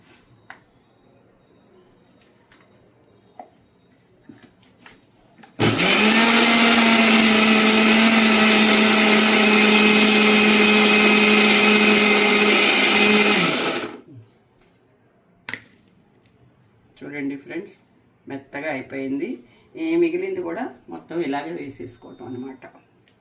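A mixer grinder grinding ginger chutney whirs loudly and steadily for about eight seconds, then stops abruptly, followed by a voice talking nearby.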